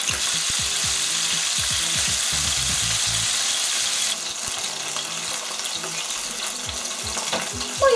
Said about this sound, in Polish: Moje mięso jest przepięknie usmażone